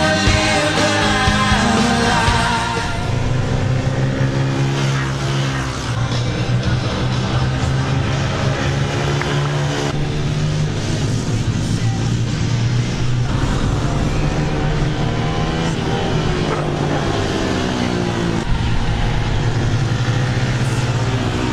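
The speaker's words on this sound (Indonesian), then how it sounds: "menunggangi Jupiter Z1 warna biru putih, beradu ketangkasan dengan 26 pembalap lokal termasuk pembalap Donitata." Blue and white Yamaha Jupiter Z1 motorcycles race in a local event, their engines droning loud and continuous with rising and falling pitch as they rev and shift.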